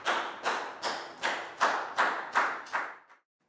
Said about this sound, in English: High five and a big round of applause for Ned.